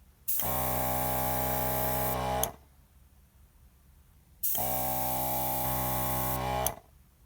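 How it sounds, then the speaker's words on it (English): An air-on-demand airbrush compressor motor runs in two bursts of about two seconds each, loud, steady hissing and humming that starts and cuts off abruptly with quiet gaps between. "air on demand means that this motor, once it's on, only runs when I'm pulling or pushing on the trigger of the actual airbrush"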